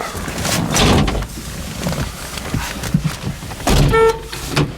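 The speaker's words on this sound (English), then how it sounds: "The horn works." A short horn toot from a 1976 Pontiac Trans Am near the end, following a stretch of clunks, mechanical noises and handling sounds close by.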